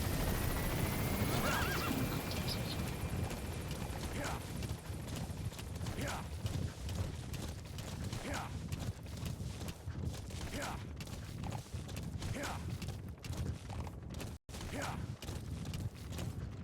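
Repeated horse whinnies rise every couple of seconds over steady galloping hooves and a low rumbling background, with faint voices underneath, in the video game Metal Gear Solid V: The Phantom Pain.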